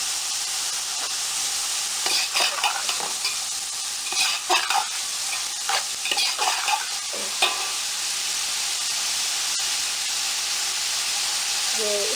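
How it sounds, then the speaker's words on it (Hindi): Chicken and vegetables fry in a pan for Chicken Manchurian, a constant loud sizzle broken by clattering stirs and bursts of spattering in the middle stretch. "तकरीबन 2-3 मिनट हो चुके हैं हमारी सब्जियों को फ्राई होते हैं। ये देखिए चिकन ऐड हो गया।"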